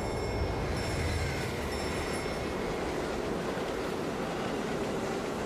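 A train rumbles past in a music video as a steady broadband roar with faint high squealing tones early on, continuous and fairly even throughout with no talk.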